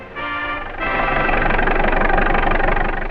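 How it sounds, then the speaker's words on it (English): Tractor trains hauling supplies deep into the bush in winter, a heavy engine droning loud and steady, rising in strength after a brief lighter start. "In winter, driving deep into the bush, the tractor trains pushed north"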